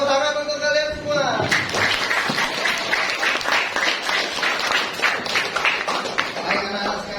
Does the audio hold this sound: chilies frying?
no